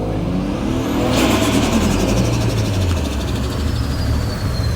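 A loud car engine revs hard and holds at high pitch, a throaty roar with a steady whine on top, close by and continuous.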